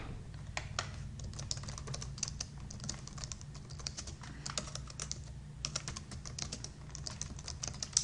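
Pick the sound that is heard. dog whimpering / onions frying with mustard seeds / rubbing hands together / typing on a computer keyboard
typing on a computer keyboard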